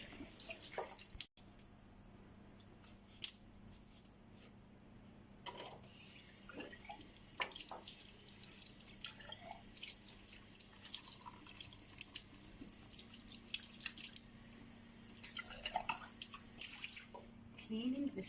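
Water drips and splashes as a lab measuring cylinder holding zinc oxide and water is rinsed out at a sink, a scattered run of light close splashes and trickles over faint background hum.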